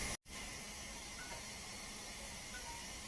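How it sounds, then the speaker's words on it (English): A pressure canner vents a continuous steam hiss while chicken drumsticks cook inside, a steady, soft broadband rush with a single brief dropout near the start. "Continuous steam."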